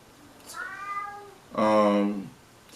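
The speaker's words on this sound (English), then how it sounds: "Sorry, y'all, that's my cat right there." A pet cat meows twice indoors, a thinner drawn-out call followed by a louder, fuller meow, close to the listener and otherwise quiet.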